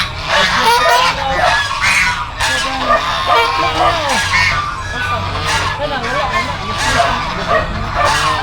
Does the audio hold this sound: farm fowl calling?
yes